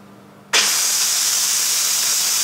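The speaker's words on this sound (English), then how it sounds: "You can see the automatic quick release going on" A Ninja Foodi 701 pressure cooker doing an automatic quick steam release: after a quiet moment, a loud, steady hiss of venting steam bursts on suddenly and continues without letting up.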